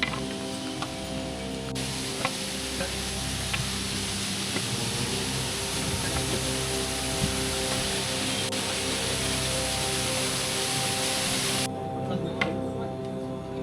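A waterfall on the trek to Kedarnath roars as a steady, dense broadband rush that fills the scene at close range, unbroken throughout with no voices over it.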